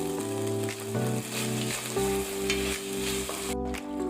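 Green chili, soy and red chili sauces with vinegar sizzling in a hot pan for chicken manchow soup, a steady loud frying hiss with stirring, no voices.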